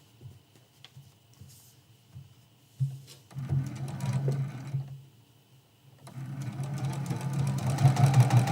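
A sewing machine stitches a seam in a quilted candlestick trivet made by foundation paper piecing. It runs in two steady bursts of motor hum and needle chatter, separated by a short pause, close and fairly loud.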